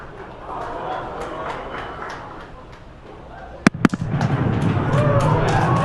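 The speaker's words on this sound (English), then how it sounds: "There we just heard sonic booms." Two sharp booming cracks in quick succession, sonic booms from Falcon Heavy rocket boosters returning to land, ring out over a crowd's noise, followed by swelling cheers.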